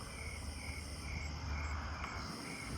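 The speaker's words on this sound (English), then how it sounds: "And there's the Nebraska conehead." A Nebraska conehead katydid calls at night in a neighbourhood, a steady unbroken high buzz that holds throughout, layered over a dense chorus of other insects and frogs.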